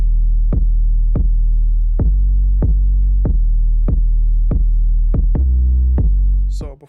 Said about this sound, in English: Well, sub bass and the kick,